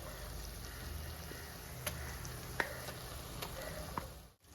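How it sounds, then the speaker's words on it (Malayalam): Ground masala paste sizzles steadily in a pan of frying onion and ginger for a Kerala-style king fish curry, a continuous close crackle with a few sharp stirring clinks. "ഈ അരച്ച് വെച്ചിരിക്കുന്ന അരപ്പ് ഇതിനകത്തേക്ക് ചേർത്ത് കൊടുക്കാം"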